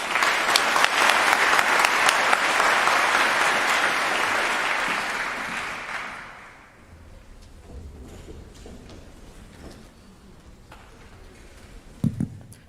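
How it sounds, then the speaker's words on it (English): Audience applause at an undergraduate research conference in Southern California, loud and dense for about six seconds, then fading into quieter room noise with scattered faint sounds and a brief knock near the end. "One more round of applause for STAR."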